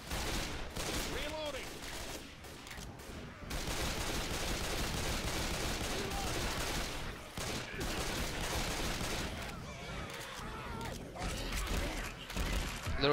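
Rapid, dense sniper rifle fire in the zombie shooter game Left 4 Dead 2, shots following one another almost without pause for the whole stretch, loud and close, with other game noise mixed in.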